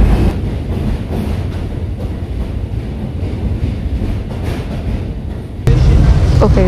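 A Brooklyn subway train at an elevated, above-ground station: a loud, steady rumble of rolling cars with wind buffeting the microphone, and a sudden jump in volume near the end as brakes squeal.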